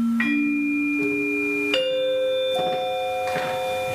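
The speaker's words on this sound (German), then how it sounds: "Das Glockenspiel funktioniert tatsächlich wie ein Metallophon." Metal bars of a church organ's glockenspiel, the harp stop of the Neheim cathedral organ, are struck by hand, giving four clear bell-like tones one after another, each ringing on and overlapping the next, close and bright with no talking.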